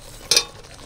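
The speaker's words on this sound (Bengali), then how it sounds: "সব কিছু একসাথে একটু নাড়াচাড়া করে মিশিয়ে নেব" A single short scrape of paneer and fried potatoes being stirred into aloo biryani gravy, a brief close burst that fades quickly into quiet.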